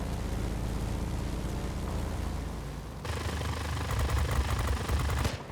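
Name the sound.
P-82B Twin Mustang machine guns firing in video game World of Warplanes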